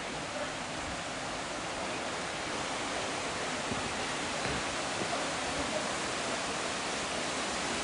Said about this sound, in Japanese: ちょっと足元、再び滝に来ました。